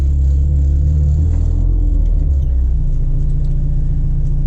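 Acura RSX with an eBay header racing a Ford 5.0, a loud, continuous deep engine rumble under strong acceleration, close by and steady without a break.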